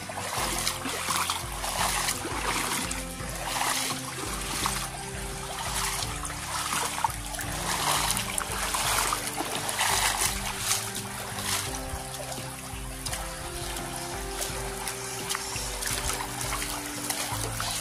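River water flows steadily at a riverside, a continuous close trickling and splashing rush that fills the whole stretch without speech.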